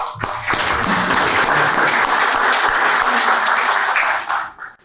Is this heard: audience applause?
yes